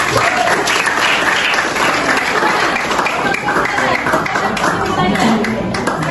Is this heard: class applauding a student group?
yes